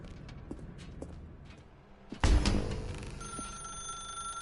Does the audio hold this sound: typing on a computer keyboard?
no